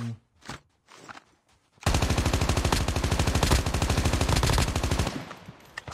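Rapid automatic gunfire from a Call of Duty match, a sustained loud burst of closely spaced shots lasting several seconds after a few quieter sounds, then cutting off abruptly.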